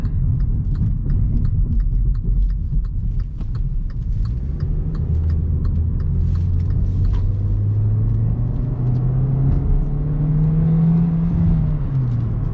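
A 2019 Hyundai Veloster GL with a 2-liter four-cylinder accelerates in sport mode, its engine note rising steadily in pitch as a low, droning hum that holds near and loud under cabin rumble.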